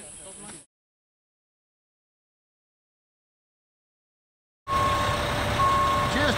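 A concrete truck reverses on a construction site for a building pour. A steady engine rumble runs loud and close under repeated high reversing beeps, heard after a long stretch of near silence.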